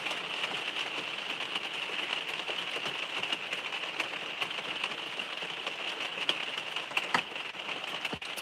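Steady rain patters on a surface with a dense hiss and scattered individual drop taps, fairly soft and continuous with no voices.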